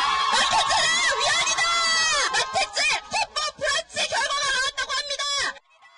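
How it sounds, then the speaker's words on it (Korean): A rally crowd outside the Constitutional Court in Korea erupts in loud cheering and high screams after an abortion ruling, a dense roar of many voices with shouted bursts that ends abruptly. "낙태죄 반대 목소리를 높였던 집회 참가자들 사이에선 환호성이 터져나옵니다."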